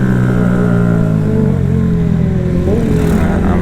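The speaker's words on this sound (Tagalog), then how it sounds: "Ayan na mga motor sa likod ko." Several motorcycles, including a Yamaha Aerox scooter, ride close behind on the Marilaque mountain highway during an early morning ride, a steady loud engine drone with rising and falling revs and a brief upward sweep near the end.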